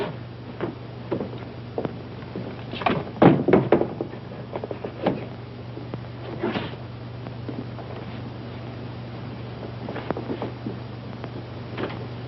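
A wooden door is answered and opened in a 1940s film scene, with scattered knocks, latch clicks and footsteps over a steady low hum, a louder cluster of handling noises in the middle.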